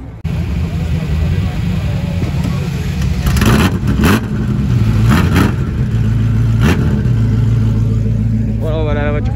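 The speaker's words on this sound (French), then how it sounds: "Voilà la voiture qui s'en va." A Ferrari F40 pulls away at a crowded Sunday car meet at Vauban, its engine revving loudly and continuously close by, with a dense rumble and rising throttle bursts over crowd noise.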